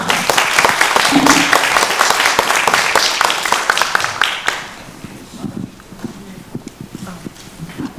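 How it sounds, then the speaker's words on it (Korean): An audience at a seminar forum on suicide prevention claps loudly for about four and a half seconds, then the applause drops away to sparse, scattered claps and quiet room noise. "박수로 청해 듣겠습니다"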